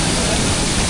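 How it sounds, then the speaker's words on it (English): A big waterfall in a Moalboal canyon roars as a dense, steady, loud broadband rush filling the whole brief moment. "That's a big waterfall."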